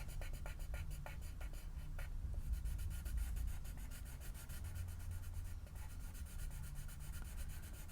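Close, steady scratching of watercolor pencil strokes on paper card, quick repeated rubbing strokes with brief pauses, no voices.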